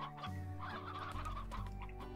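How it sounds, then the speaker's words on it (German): Chickens in the video game Slime Rancher cluck repeatedly in a busy, overlapping chorus, fairly close and steady, with no talking over them. "Die Hühner kommen ins Gehege."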